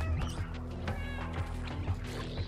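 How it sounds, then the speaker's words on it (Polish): In the Stray video game, a cat meows amid busy game sounds, with short tonal cries over a constant low hum and scattered thumps. "Wiecie, miauczeniem je odstraszamy."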